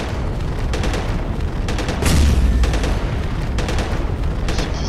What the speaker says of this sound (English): That's a lot of small fire. A lot of small fire. How many small guns does that guy have?